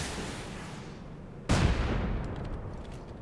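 A rocket striking and exploding on a turret in the video game Rust, one sudden loud booming blast midway through, after a steady roar, followed by a long fading rumble.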